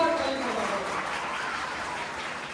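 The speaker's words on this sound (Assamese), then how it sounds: "ছাৰৰ বাবে এটা তালি বজাব লাগে, জোৰদাৰ তালি বজাব লাগে" Applause for a teacher at a welcome meeting for newcomers: a dense, fairly loud wash of clapping from a crowd, steady and slowly fading over a couple of seconds, with voices mixed in.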